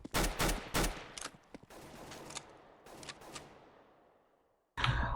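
Counter-Strike gunfire on the Inferno map: several sharp bursts of rapid shots up front, then scattered single shots trailing into reverberant decay, a short silence, and a loud burst returning at the end.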